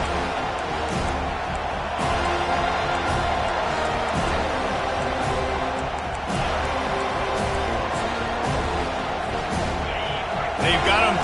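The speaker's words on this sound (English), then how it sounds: "this crowd trying to help keep them there" Stadium crowd noise in the College Football 25 video game, a constant roaring wash of fans with scattered claps and thumps, heard under a commentator's voice throughout.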